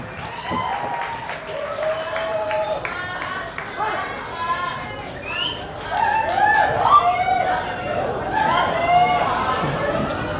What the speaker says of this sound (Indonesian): Mari beri tepuk tangan untuk presentator Baladewa.